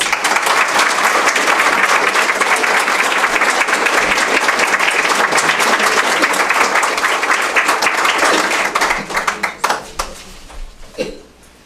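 A lecture audience applauds to welcome speaker Rebecca Tilles, dense sustained clapping from many hands that holds steady, then thins into scattered claps and fades out near the end.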